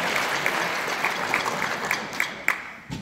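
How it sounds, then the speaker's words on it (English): Applause from the audience at a 2018 indoor marching band showcase, steady crowd clapping throughout with a few sharper claps and whoops near the end. "So let's get a nice round of applause for the Maine West Athletic Community."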